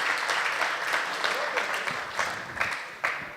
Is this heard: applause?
yes